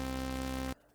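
A single sustained, buzzy synthesizer note from Massive played through a low pass filter, rich in steady harmonics, held for under a second before cutting off abruptly.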